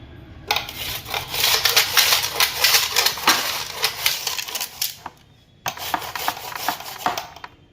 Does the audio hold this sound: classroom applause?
no